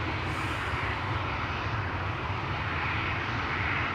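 Engines of a DHL Boeing 767-300 freighter bound for Leipzig rumble at Schiphol Airport, a steady, moderately faint broadband roar with no breaks, heard from a distance.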